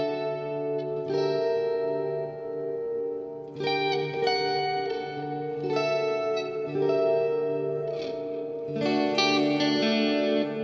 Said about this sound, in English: they're using quite a bit of reverb, delay, and chorus to get this cool spacey sound